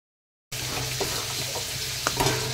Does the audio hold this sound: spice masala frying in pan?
yes